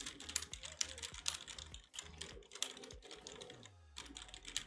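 Rapid typing on a computer keyboard placed right beside an Elgato Wave 3 microphone: dense, uneven clicks and clacks, close and crisp, running steadily for nearly five seconds.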